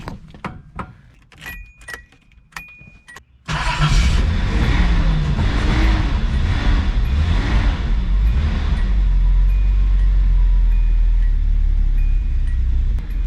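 Keys jangle for a few seconds, then a car engine cranks and catches with a sudden loud roar and settles into a steady, close idle; the engine has a suspected vacuum leak and throttle position sensor or auxiliary air valve trouble.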